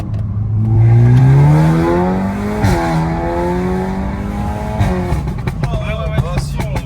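A Volkswagen Golf 8R stage 2 tuned to 480 hp and about 600 Nm accelerates hard, its engine note climbing through the gears inside the cabin, with occupants talking over the drive.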